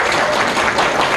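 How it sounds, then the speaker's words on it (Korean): Loud, dense applause from an event audience at a public gathering on ageing and low birth rates in Jeju, continuous and broadband with no talk over it. "박수 한번 주시죠."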